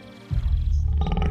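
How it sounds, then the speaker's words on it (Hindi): A big cat, a cheetah in an animated Hindi story, lets out a sudden low growl that starts abruptly and rumbles loudly for about a second. "एडवर्ड हिरण ने इतना कहा ही था कि तभी उसके कानों में किसी की गुर्राहट की आवाज टकराई।"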